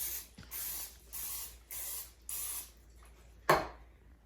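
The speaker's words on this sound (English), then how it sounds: "So I'm just gonna lightly spray it in each one." Four short hissing bursts from a vegetable oil spray can in an even rhythm, then a sharp click and a final brief spray, close and quiet, greasing a muffin tin.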